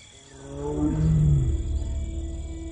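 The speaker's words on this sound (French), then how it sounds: "Ces rugissements indiquent sa présence aux femelles qui se trouvent sur son territoire" Bengal tiger gives one deep, swelling roar that rises and fades with a rough, pulsing tail, close and loud with no talk over it.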